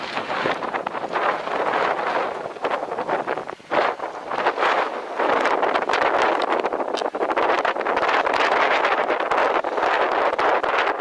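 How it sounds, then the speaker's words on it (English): Strong gusts buffet the microphone on an exposed 6,200 ft summit in the Roan Highlands of Tennessee, a loud, continuous roaring rush with no voices. "Crazy wind up here."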